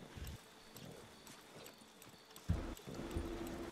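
Hooves of a Dutch Warmblood horse in the video game Red Dead Online clip-clop in a faint, irregular series of soft thuds, with no voices.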